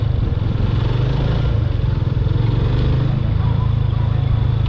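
A motorcycle engine chugs and labours steadily at close range with a low, uneven rumble, as if being held with the clutch engaged too high, with no clear cutoff.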